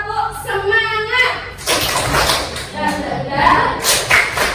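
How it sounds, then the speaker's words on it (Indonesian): A school class performs the 'tepuk semangat' clapping chant, with children's voices chanting together in rhythm and bursts of group clapping landing between the sung lines. "ayo kita coba tepuk semangat ya"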